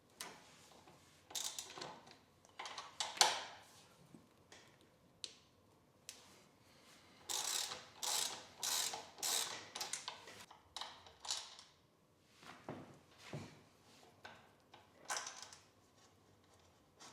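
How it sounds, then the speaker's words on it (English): Two brake caliper bolts coming off a Honda NC750X motorcycle, heard as a series of close, quiet ratcheting clicks in rapid bursts with short pauses between, no voices. "First you need to remove these two bolts."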